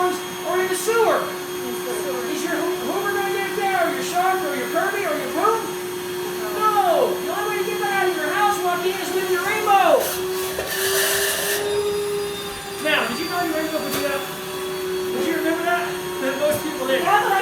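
A Rainbow vacuum cleaner runs with a steady drone, while a person talks over it throughout.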